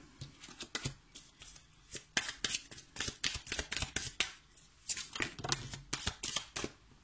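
Tarot cards shuffled and drawn up close: quick riffling flutters and crisp card snaps in a steady, busy rhythm, fairly quiet with no voice over them.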